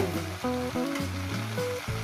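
Steady sizzling of a salted catla fish head frying in hot oil, close up, with a melodic tune playing loudly over it throughout.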